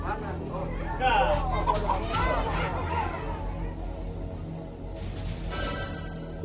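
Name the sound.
chickens clucking in a coop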